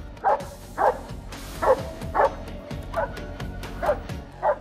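Malinois search dog barking after locating a hidden person during a rescue demonstration: seven loud, close barks spaced evenly about every half second, with faint background murmur between them.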